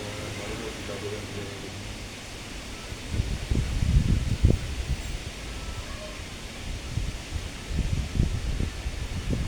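Wind blows outdoors in a dusty yard, producing low rumbling gusts that buffet the microphone over a steady broadband hiss, swelling and easing in irregular bursts.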